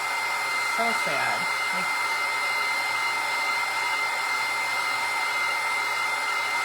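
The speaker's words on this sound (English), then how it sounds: "you got to kind of just move your dryer around, right?" A hair dryer blowing hot air over plastic spoons for a craft flower frame, a loud steady whooshing roar that runs the whole time while someone talks briefly near the start.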